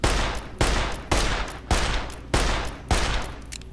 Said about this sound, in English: Just like that, we can now fan the gun.